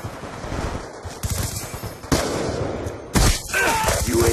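Rapid video game gunfire in a military shooter, with bursts of automatic shots cracking in fast succession alongside loud explosive blasts, aimed at an enemy UAV overhead; dense, close and continuous with no talk.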